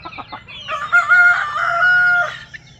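Rhode Island and native chickens on a backyard farm, a loud close rooster crow preceded by a few short clucks, standing alone without talk.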